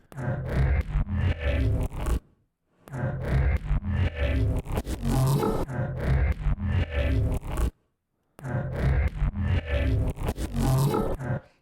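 A granulated neuro bass sample plays solo in three gritty, growling bursts separated by short gaps, dense and loud with a scraping, crunching texture and no voices.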